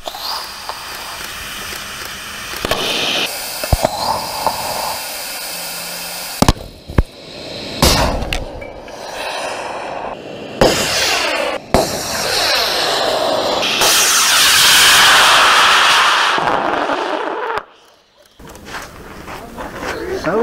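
A bipropellant model rocket launches outdoors in winter, a sustained roaring hiss that swells for several seconds and then fades, with brief bangs before it and people talking around it.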